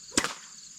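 Single sharp crack of a whip, short and moderately close, with a quick fade and nothing else around it.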